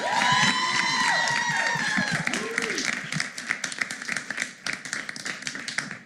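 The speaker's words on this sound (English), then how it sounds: "Let's give them a round of applause, everybody." Scattered clapping and light cheering rise from a studio audience at a live talk-show taping, with a voice overlapping at the start before the hand claps thin into sparse, uneven taps.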